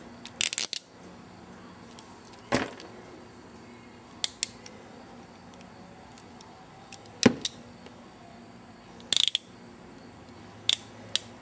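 A ratcheting crimp tool squeezes a wire connector during wiring repair on a 1968 Pontiac Firebird, giving a handful of sharp, isolated clicks and snaps spaced a second or two apart in a quiet room.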